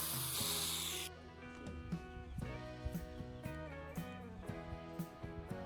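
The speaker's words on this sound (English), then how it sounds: "Now, I'm going to use the angle grinder again, but this time I'm focusing on the central electrode." An angle grinder grinds the central electrode of a spark plug in a loud, harsh burst lasting about a second, then cuts off, leaving steady background music.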